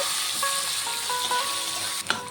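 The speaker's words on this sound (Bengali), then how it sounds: "এখন পেঁয়াজটিকে একটু ভেজে নেব।" Chopped onion frying in hot oil with whole garam masala, cinnamon and cardamom, a steady soft sizzle with faint crackles and a brief sharper stir near the end.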